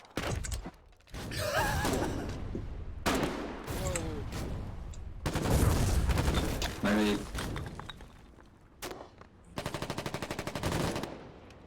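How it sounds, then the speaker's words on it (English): Grenade blasts and bursts of gunfire from frontline fighting in the war game Foxhole, loud and repeated across the clip, with speech over the combat. "That's a grenade."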